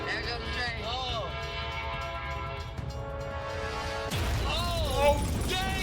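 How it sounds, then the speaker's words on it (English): A train rolls past close by with a long steady rumble and sustained horn-like tones, shouting and excited voices over it, the noise swelling louder near the end. "There goes the train."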